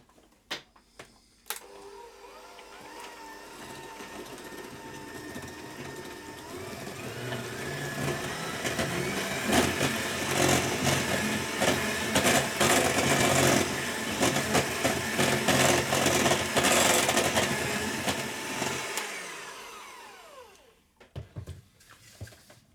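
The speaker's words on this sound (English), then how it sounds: "Now I'm going to use my hand mixer for ease, but you can do this all by hand." An electric hand mixer whirs steadily as it creams softened butter and sugar in a mixing bowl for cookie dough, building to a loud, continuous buzzing with a rattling scrape before it cuts off near the end.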